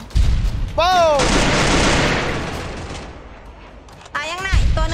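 Gunfire and an M79 grenade launcher in the Free Fire video game, with loud booming blasts and noisy bursts filling the clip while voices with rising tones break in near the start and end.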